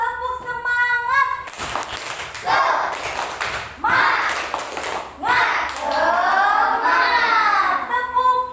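Indonesian schoolchildren in a classroom lesson perform a rhythmic clapping chant, with bursts of claps and shouted group syllables in a repeating pattern, loud and close, after a teacher's sung lead-in.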